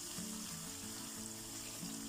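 Banana chips frying in hot oil while being stirred: a dense, steady sizzle and crackle, close and even throughout, with a faint tonal hum underneath and no voices.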